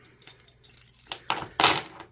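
A ring of old railroad keys jangles and clinks against a metal railroad lock, a few close, bright metallic rattles and taps with quiet gaps between them.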